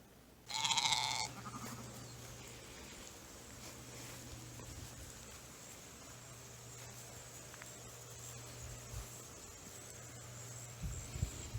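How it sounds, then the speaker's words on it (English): Sheep bleat loudly at close range in one burst on a farm pasture in western New York, then a low steady hum and faint rustling carry on with no further calls. "I'm going to try and lure the sheep back in"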